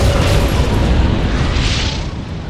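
A MAC round striking a Scarab in Halo Wars: Definitive Edition: one loud, deep, sustained boom that rolls on as a heavy rumble.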